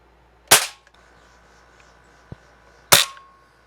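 Two sharp, loud shots from a vintage Crosman 760 pellet air rifle, pumped ten times and loaded with a pellet, each crack standing alone and well apart, with a faint click between them.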